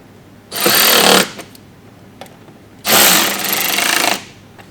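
A power tool drives screws on an Audi Q7 mud flap in two short bursts of loud rattling, whirring impact, the second longer than the first, separated by quiet pauses with faint clicks.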